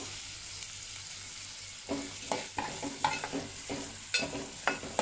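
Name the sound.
onions and curry leaves being sautéed and stirred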